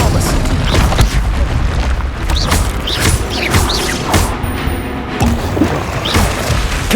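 Repeated magical blasts from the Confringo fire spell in the Hogwarts Legacy video game, a run of loud booms and crashing thuds in close succession over a rumbling battle bed.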